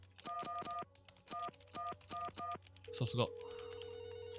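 In the game There Is No Game, a phone rings in a run of short repeated electronic bursts, then a louder dial or line tone follows, all fairly faint, with a voice speaking briefly over it.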